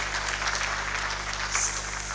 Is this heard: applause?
yes